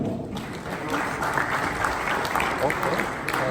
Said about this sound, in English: please another round of applause for Sir Jonah